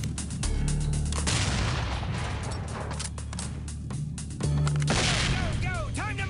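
A flashbang grenade goes off in a SWAT tactical video game, one sharp bang amid gunfire-like bursts and clatter, with a second loud hit near the end and radio-style game chatter underneath.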